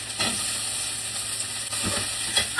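Dried red chilli fries in hot oil for an onion dish in a village kitchen, giving a steady close sizzle with a few soft stirring scrapes and no talking.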